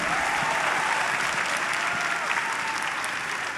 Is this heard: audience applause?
yes